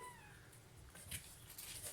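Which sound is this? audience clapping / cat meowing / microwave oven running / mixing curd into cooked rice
cat meowing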